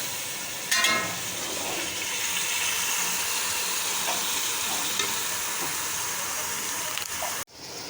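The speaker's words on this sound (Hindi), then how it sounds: "दही के पानी में ही भुन रहा है।" Mutton frying in yogurt water for biryani, a steady close sizzle and bubbling with occasional stirring scrapes, running continuously throughout.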